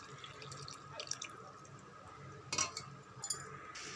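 Strained tamarind water trickles and drips into a pot of boiling kuzhambu, with a few soft splashes and a brief clink partway through.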